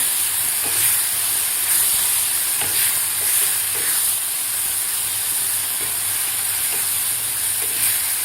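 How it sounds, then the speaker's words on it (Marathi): Tomato paste sautéing in a hot tempering of oil for tomato chutney, giving a steady, loud sizzle and hiss with faint stirring scrapes throughout, and no talking. "आता व्यवस्थित आपल्याला ही टोमॅटोची पेस्ट खालच्या फोडणीमध्ये व्यवस्थित परतून घ्यायची आहे."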